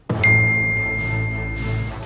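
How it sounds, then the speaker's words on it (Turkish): A single bright notification ding from a phone receiving a WhatsApp message rings out clearly and fades slowly over about two seconds, with no voices. "Bu sırada Canan'ın telefonuna ikinci bir WhatsApp mesajı daha geldi."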